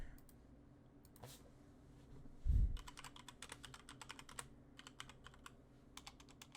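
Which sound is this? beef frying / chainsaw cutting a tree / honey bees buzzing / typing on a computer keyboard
typing on a computer keyboard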